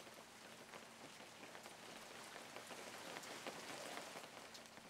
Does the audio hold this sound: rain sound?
yes